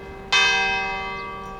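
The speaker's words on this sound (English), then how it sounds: "So the 6:30 bells right here." Church bell in Malta tolling at 6:30 in the evening, a single loud, close strike with rich ringing overtones that slowly decays, no voices over it.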